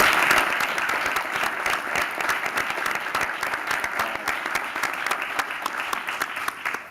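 A large audience at a New York State wine, beer, spirits and cider summit breaks into steady, sustained applause, many hands clapping in a dense, even wash at moderate volume with no talking over it.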